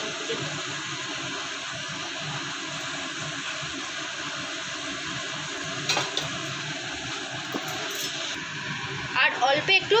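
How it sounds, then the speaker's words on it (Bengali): Whole spices such as cinnamon, green cardamom, cloves and dried red chillies tempering in hot oil, a steady low sizzle with light stirring and a few clinks near the end, a voice speaking over it. "আমরা ফোড়নে এবার দারচিনি, ছোটো এলাচ, লবঙ্গ আর শুকনো লঙ্কা দেবো।"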